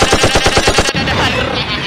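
Rapid automatic gunfire in the PUBG video game, a quick string of about eight close, loud shots ending abruptly, followed by a dense rumbling wash of game noise.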